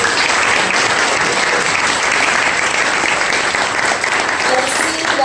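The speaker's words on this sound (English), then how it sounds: "a round of applause for our instructors" Loud, dense applause fills a showcase hall as the audience claps for the instructors of an Arabic language program, a continuous wash of many hands with no pauses.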